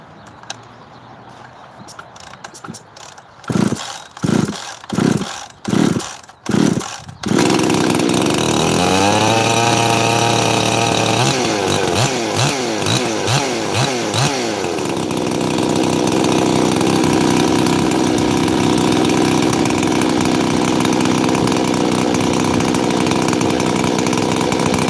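A chainsaw being heat cycled, with a slightly leaking tank vent: several short pulls and sputters, then the engine catches and runs loud and steady, revving up and down before settling into a sustained high drone.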